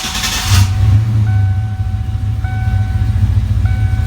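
A Ford Mustang SN95 with a V6 engine starts with a brief loud burst, then settles into a steady, close, heavy low rumble, with thin electronic chime tones sounding at intervals over it.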